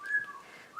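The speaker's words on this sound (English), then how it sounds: "Creighton, the bird, seems to like it. I don't know if you can hear him whistling" A pet bird named Creighton whistles a sustained, slightly wavering tone close by, with a brief rising note at the end and no talking over it.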